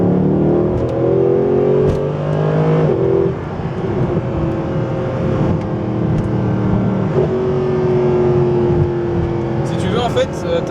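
Mercedes-Benz SLS AMG with its V8 engine revving up under manual acceleration, a loud, deep engine note climbing and shifting through gears from inside the car, with people talking over it.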